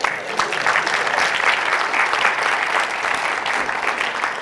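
Sustained audience applause at a TEDx talk after a beatbox lesson, a dense, steady wash of many hands clapping at even loudness throughout.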